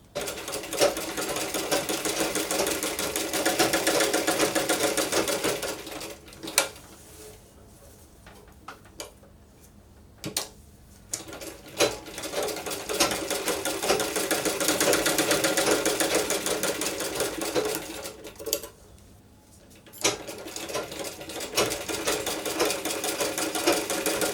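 A sewing machine stitches pieces of a toddler's A-line frock together, its fast rhythmic motor clatter running in long close bursts, broken by brief pauses around the middle and again near the end.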